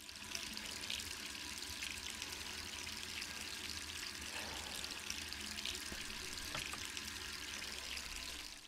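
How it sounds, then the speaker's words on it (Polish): Running water from a tap in the Resident Evil 3 video game, a steady faint pouring hiss that continues without a break, with a few soft clicks over it. "Czemu znowu jakaś woda mi tutaj leci?"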